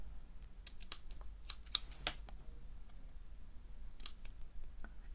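Small scissors snip ribbon in a quiet room, a handful of crisp, close cuts in quick clusters with short pauses between.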